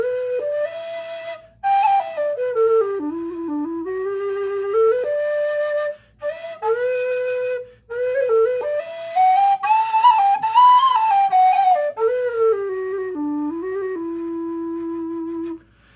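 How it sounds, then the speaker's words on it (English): An aluminum low D whistle plays a slow, breathy melody, gliding between sustained notes with a soft chiff on the attacks, close and steady throughout. "a little bit of that chiffy aluminum low whistle sound"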